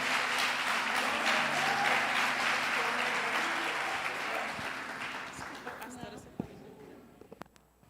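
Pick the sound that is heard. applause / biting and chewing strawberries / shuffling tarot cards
applause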